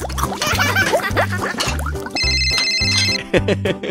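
A telephone rings in the Roblox Brookhaven game, with a bright repeating electronic tone pulsing over a loud, bouncy looping music track.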